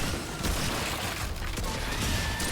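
Combat gunfire in a video game, a steady loud wash of overlapping shots and mechanical clatter running throughout without pause, no voices.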